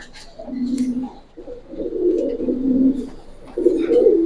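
Giribaz pigeons coo up close, giving several low, throaty, rolling coos in overlapping phrases with brief pauses between them.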